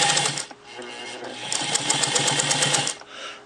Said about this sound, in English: now I'm going to show it working the zigzag starting with a single stitch.